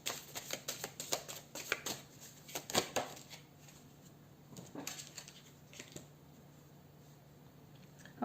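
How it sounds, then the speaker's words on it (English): Astrology cards being shuffled by hand in quick riffling bursts of soft flicks and taps, close and quiet, fading into sparse handling noises. "I was just shuffling more astrology cards"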